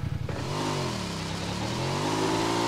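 A motorcycle engine revs hard in the PUBG Mobile video game, a steady loud rising and falling drone with clattering start, sustained close throughout with no talk.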